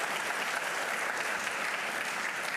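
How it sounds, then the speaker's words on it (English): Dense applause from a large conference audience in New York, a continuous even roar of clapping hands at a steady level, with no talk over it. "that is worth clapping for."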